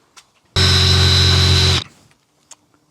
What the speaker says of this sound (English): That was tricky to drill.